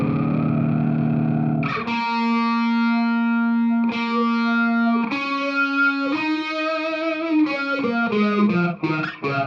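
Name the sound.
guitar talkbox-style effect from Fractal Axe-FX preset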